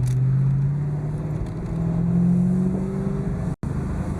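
A 1988 Ford Mustang LX 5.0 convertible with a V8 pulls away through its gears on a test drive, the engine note climbing steadily in pitch and then dropping briefly at a shift, heard from inside the car.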